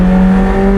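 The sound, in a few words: McLaren 765LT V8 engine revving at high RPM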